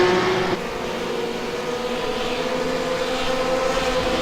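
A RUF GT3 race car engine lapping Brands Hatch in iRacing drones steadily at a fairly even pitch, a continuous moderate engine hum with no voices over it.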